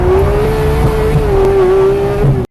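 A Porsche 911 GT3 with worn tires is driven hard through a corner at Buttonwillow Raceway, traction control off. Its engine holds a loud, steady high-revving note close up, with slight pitch wavering through the bend and no talk.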